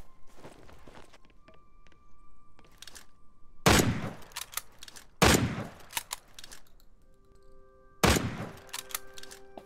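Three loud, sharp shotgun blasts in the survival game The Front, spaced a second or more apart, each with a short rumbling tail, over a low background of in-game movement and ambience.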